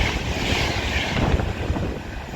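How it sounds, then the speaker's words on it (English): An Avanti West Coast Class 390 Pendolino train rushes through Longport station on the West Coast Main Line, a loud, close, sustained roar with wind rumble across the whole stretch. "Now passing through is going to be a Avanti West Coast Class 390 Pendolino for London Euston for Manchester Piccadilly."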